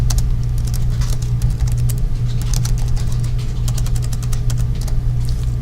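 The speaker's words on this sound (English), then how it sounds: "let me make sure I type that correctly" Rapid, uneven clicking of a computer keyboard comes in quick bursts close to the microphone, over a steady low hum.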